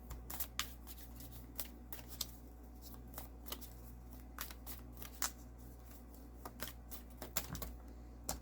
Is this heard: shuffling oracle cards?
yes